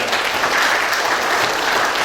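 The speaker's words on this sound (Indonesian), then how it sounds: "Tepuk tangan untuk teman-teman damkar." Loud, close applause from a crowd at a firefighter training event, dense continuous clapping with no pauses.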